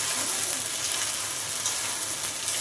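Ground paste of cumin, ginger, green and dry chilli and garlic with half a tomato fries in hot oil, a steady close dense sizzle that holds even and unbroken throughout.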